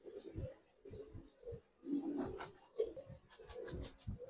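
Giribaz and coloured pigeons give soft, throaty coos in short repeated bursts, close by, with faint rustling and some quiet background sounds in between.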